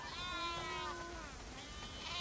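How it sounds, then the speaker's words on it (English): Sheep bleat in a barn in The Last of Us Part 2, a wavering, nasal cry drawn out over a second or so, followed by a fainter second bleat, heard alone over quiet background noise. "That's a lot of sheep."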